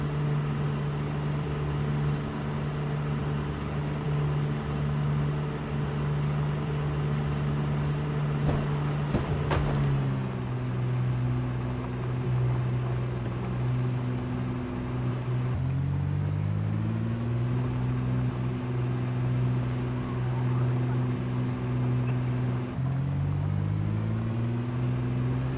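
Car engine in the Project Zomboid video game, a steady droning hum with harmonic bands that shift pitch in steps as revs change, with a brief crackling burst midway, continuous and close with no talking.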